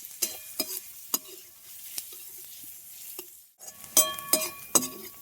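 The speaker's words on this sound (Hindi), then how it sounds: "और इसे चलाते हुए हम भून लेंगे। तो प्याज को हमें एकदम से लाल नहीं भूनना है" Onions fry in a pan as a spatula scrapes and clinks through them in irregular strokes over a light sizzle, with a brief lull midway before a burst of busier stirring.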